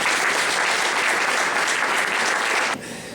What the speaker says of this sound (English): I would like to welcome her with a big applause.